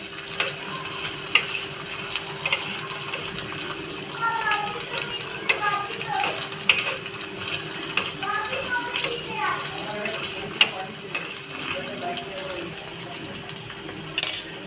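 Dried red chillies, five-spice seeds and ginger paste sizzle and spit in hot mustard oil in a pan, a steady close crackle with occasional clinks of a spoon stirring, and a faint voice in the background.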